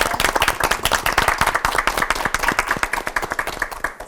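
An audience claps hard and fast, honouring three pastors at a televised Bible lecture on Genesis. The dense clatter of many hands is loud and close and keeps an even pace through the whole stretch, with no speech.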